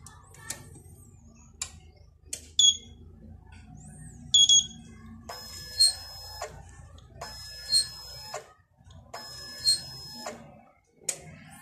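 A DNP photo printer stuck on an error, just plugged into 220-volt power, gives sharp electronic beeps and clusters of alarm tones that repeat at regular intervals over quiet clicks and a faint low hum.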